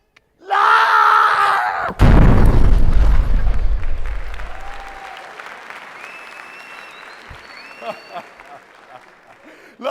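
A bomb blast in an Egyptian stage comedy: a sudden loud boom with a heavy low rumble that slowly fades, preceded by a shout and followed by crowd noise and scattered voices.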